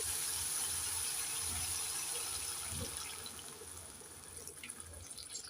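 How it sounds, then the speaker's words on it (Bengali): Water poured into a pan of frying mustard spice paste for a puti fish curry gives a soft rushing, bubbling wash that fades and turns into gentler, uneven sizzling. "এবার দিয়ে দেব জল"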